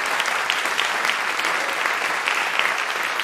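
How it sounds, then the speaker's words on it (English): A concert audience at a Christmas event applauds an elementary school choir in steady, dense clapping that fills the room throughout. "could you give them one more round of applause"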